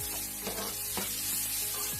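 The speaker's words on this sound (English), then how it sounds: "Let me stir so I don't burn." Onion, scallion and green and yellow bell peppers sizzle loudly in a hot pan while a utensil scrapes and stirs them in a few rhythmic strokes, close and steady.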